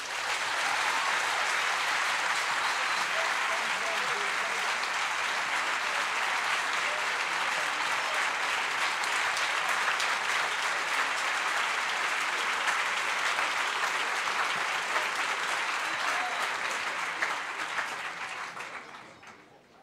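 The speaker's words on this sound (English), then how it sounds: "Another round of applause." An audience at the Chief Justice's prestige lecture applauds in a long, dense, sustained wave of clapping at even loudness, tapering off at the very end.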